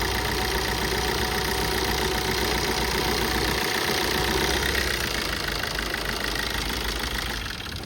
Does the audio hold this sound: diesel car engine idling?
yes